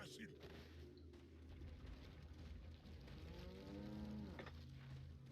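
Cows moo in the video game Resident Evil 4, a drawn-out lowing call rising over a steady, dense game soundscape with rumbling background noise throughout.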